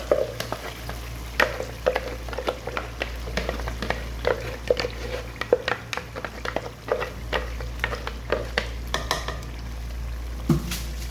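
Ground masala fries in a pan for chicken tikka karahi, with a steady sizzle under repeated sharp scrapes and clinks of a spoon stirring against the metal, close and busy, without talk.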